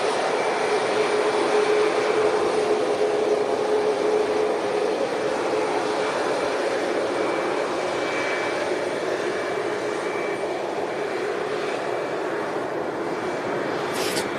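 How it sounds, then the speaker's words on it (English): A Boeing 737 MAX 8 airliner at Manchester Airport gives a steady, broadband jet-engine roar that holds loud and unbroken throughout, with no voices over it. "Here's a 737 MAX 8"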